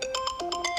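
A multifunction electrical tester fitted with a SIM card plays a phone ringtone: a quick, bright electronic melody of repeating notes, close and clear.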